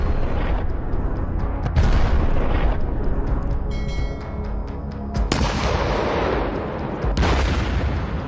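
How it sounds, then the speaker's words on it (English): A BTR-4E armored vehicle's 30mm cannon fires in heavy, booming bursts, with several sharp loud reports standing out over continuous rumbling battlefield noise. "identified enemy positions, and opened fire with its 30mm cannon."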